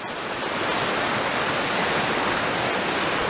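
Talybont waterfall roars as a dense, steady rush of falling water, close and loud throughout with no other sounds.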